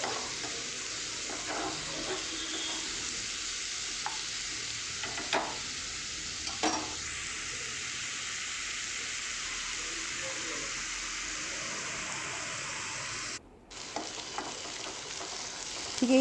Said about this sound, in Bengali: এইটাকেও জাস্ট একটু মশলার সাথে ফ্রাই করে নেবো হালকা করে